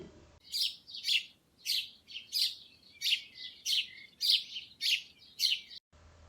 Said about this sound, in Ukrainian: Горобці бадьоро цвірінькають.